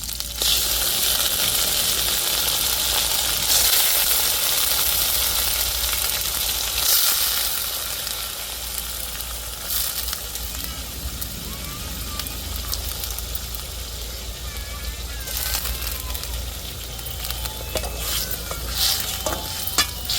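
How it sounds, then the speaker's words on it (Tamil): Liver sizzles in a ginger-garlic tempering with a steady, dense hiss that runs for about twenty seconds, broken by occasional scraping as it is stirred. "இப்போ தாளிப்பில் வந்து நம்ம ஈரலை சேர்த்தாச்சு"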